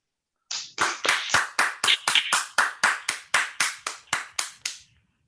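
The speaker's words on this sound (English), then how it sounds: "give both speakers another round of applause" Scattered applause from a small online audience after two speakers finish, about fifteen separate claps in a steady rhythm, close and clear, with no talking.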